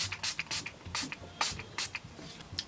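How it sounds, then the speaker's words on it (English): Setting spray mists onto a made-up face in a quick series of short, soft hissing puffs, about eight bursts with brief gaps, close and fairly quiet. "finish it off with a setting spray"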